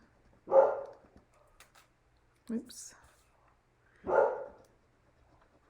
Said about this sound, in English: Can you hear my dog still? I don't know. She's barking